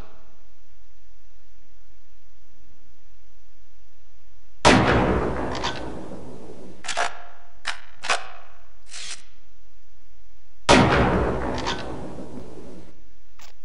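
Rifle shots at targets in the video game Half-Life: Opposing Force ring out as a handful of sharp, isolated cracks with short reverberant tails, separated by long quiet gaps.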